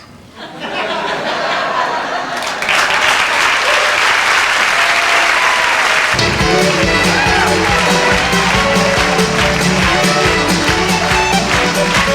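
A comedy gala audience from 1995 bursts into loud, sustained applause with some laughter and chatter. Loud stage music joins partway through and carries on under the clapping.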